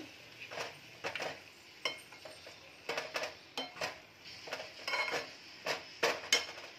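Soaked moong dal being stirred into dill greens in a pan, with a run of rhythmic scraping and clinking strokes over a faint sizzle, fairly quiet and close.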